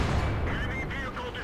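A Jagdtiger tier 9 tank destroyer's main gun fires in World of Tanks, one heavy muffled boom with rumbling decay, fairly faint and brief.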